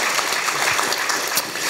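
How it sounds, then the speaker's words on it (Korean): Audience applause at a university lecture in Gwangju, a steady wash of clapping from many hands, dense and continuous throughout. "박수 쳐주는 거예요."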